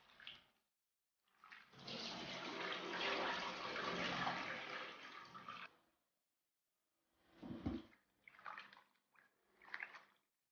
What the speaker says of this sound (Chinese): 焯好的腐竹洗一下